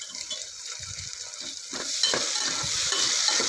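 Tomato and onion sautéing in a pan for dal khichdi, a close hissing sizzle with soft scraping stirs that grows louder midway.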